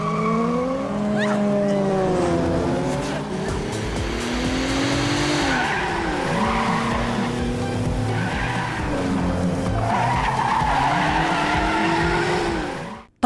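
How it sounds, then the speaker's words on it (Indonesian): Race cars rev hard and their tires squeal and skid in a street-racing film scene; loud, continuous engine whine with repeated pitch sweeps as gears change and wheels slide. "Feng terus menggeber mobil berusaha mengejar ketertinggalannya dari QQ yang menggunakan mobil berwarna pink"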